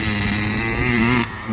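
A two-stroke dirt bike engine on a backyard supercross track idles low and off the power band, a steady buzzing drone with slight wavering pitch that drops quieter near the end, close by with no talk.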